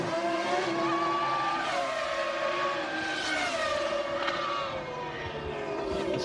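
Formula 1 cars, including Ferraris, scream loudly out of the pits during a 1999 race, with high engine whines rising and falling as they accelerate and pass, a dense continuous roar from start to end.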